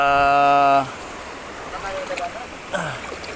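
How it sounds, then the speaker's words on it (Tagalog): Strong spring water gushes from a pipe at a house in a steady, fairly loud rush, after a brief voiced tone at the start. "Ang lakas ng bukal."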